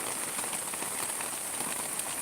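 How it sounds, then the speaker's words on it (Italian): Steady rain falling on hard surfaces nearby in Salerno, a dense patter of drops with a constant hiss, no voices. "è arrivata la pioggia"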